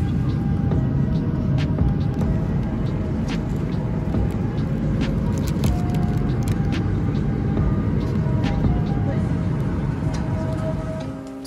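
A loud, steady low roar of aircraft engines and cabin rumble during a plane's touchdown at Xi'an, holding constant throughout with faint scattered rattles.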